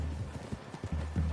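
Horse hooves clip-clop in a Red Dead Redemption 2 forest clearing, a close, loud, uneven rhythm of hoof strikes with no talking over it.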